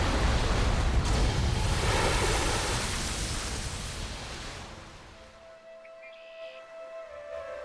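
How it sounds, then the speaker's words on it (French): An underground river roars through the Vitarelles cave, a loud, continuous rushing wash of water against the rock walls that eases and thins after about five seconds. "des vagues assourdissantes frappent les parois de la grotte"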